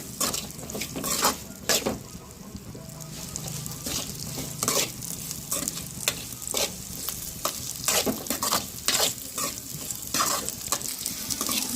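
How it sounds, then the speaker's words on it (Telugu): Potatoes frying in a pan, a dense close sizzle running throughout with frequent clattering stirs and scrapes of a utensil against the metal, fairly loud and without speech. "బంగాళదుంపలు ఉన్నాయి కదా మీకు అవి వేసుకుందాం ఫ్రై వేసుకొని ఫ్రై చేద్దామండి"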